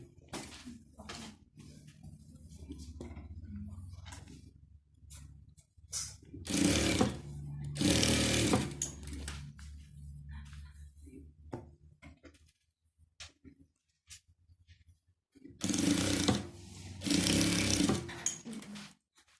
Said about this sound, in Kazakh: Енді ақты ақ жағына тігіп аламыз.